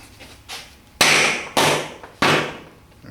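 Differential cover or seal being hammered home, heard as three loud, close metallic blows about half a second apart, each with a short ringing decay, preceded by softer taps.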